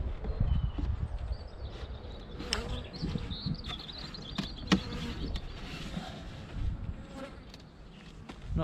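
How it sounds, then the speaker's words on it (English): Honeybees buzz around an opened beehive during the first inspection of the season, a low, continuous hum close by, with occasional sharp knocks and clicks of hive parts being handled. "There's the bees in there."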